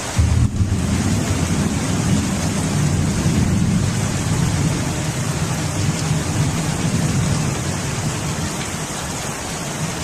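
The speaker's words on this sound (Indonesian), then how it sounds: "Nah, hujan." Heavy rain pours steadily with low rumbling thunder, a loud continuous wash of noise throughout with no voices.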